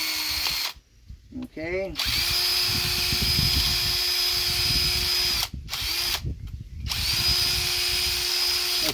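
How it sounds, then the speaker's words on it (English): A power drill bores holes in wood for a homemade wooden lamp, long steady whining runs broken by brief stops and restarts, close and loud, with a short spoken word between bursts. "I'm going to drill another hole right here"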